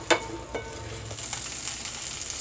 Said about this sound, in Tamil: அதையும் சேர்த்துட்டு மறுபடியும் நல்லா இதே மாதிரி நல்லா வதக்கி விட்டுக்கலாம்.